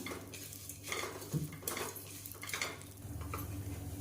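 Vermicelli and almonds roast together in a pan, with soft, quiet sizzling and a few clinks and scrapes of stirring against the metal, close by with no voices.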